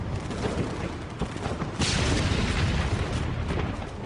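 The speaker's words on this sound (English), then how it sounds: "The German guns opened fire." German guns open fire in a battle reconstruction of the raid on Zeebrugge, a dense, loud barrage of booming blasts and rapid gunfire that swells midway and keeps rolling without letup.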